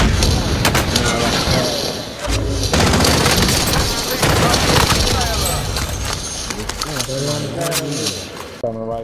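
Dense gunfire and explosive bursts in the video game Warzone, loud rapid volleys and booms, with players talking over the shooting.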